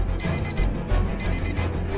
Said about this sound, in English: I had set my alarm at 4:30, which must have been the source of all the noise